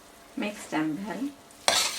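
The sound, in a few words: stirring cooked rice with vegetables and masala in a pan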